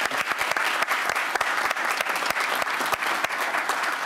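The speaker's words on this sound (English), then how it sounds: "Let's give him a round of applause." Audience applause at a city council meeting: steady, dense clapping from a room of people, even and sustained for several seconds without talk.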